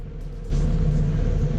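A 2018 Toyota 4Runner on an icy off-road trail, a low rumbling drone from the cabin that suddenly grows louder and rougher as the truck jolts over the ice.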